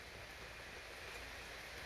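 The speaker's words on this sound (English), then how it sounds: "you can probably hear the rain outside." Steady rain falls outside, a close, continuous broadband patter and hiss with no breaks and no voices.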